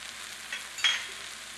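Finely chopped minced lemongrass hits a hot pan with a soft, faint sizzle, swelling into a brief brighter crackle as it lands, then settling into a steady low hiss.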